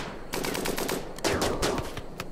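Rapid automatic turret gunfire from the Rimworld video game, a dense stream of overlapping shots in two close bursts, loud and continuous with no talking over it.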